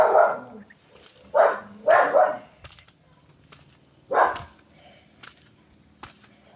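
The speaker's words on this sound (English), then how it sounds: "There's a dog there." A dog barks outdoors at a beach resort at sunset, with loud bursts in short groups and pauses between them, and crickets and insects chirring faintly underneath.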